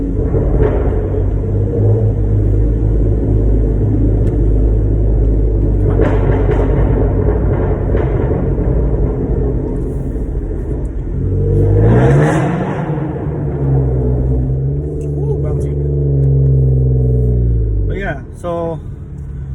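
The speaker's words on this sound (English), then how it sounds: "so that's what my car sounds like. Straight pipe, resonator, muffler, delete." A 2015 Chrysler 200S with a 3.6 V6 and straight pipe exhaust, resonator and muffler deleted, driving with a loud, deep interior rumble and a clear rev rising midway, while someone talks over it.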